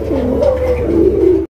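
A big Golla pigeon coos loudly and close by, one continuous rolling coo lasting over a second before it cuts off.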